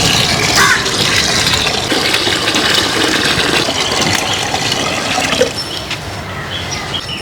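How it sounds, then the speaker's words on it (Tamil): Water poured into a pot of lightly sautéed vegetables for egg soup, a steady, loud splashing rush that fills the whole stretch with no pause. "தண்ணி சேர்த்து வேக வைக்க போகிறோம்"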